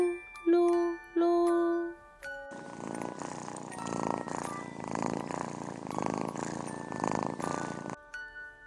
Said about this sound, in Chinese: 三只小猫呼噜噜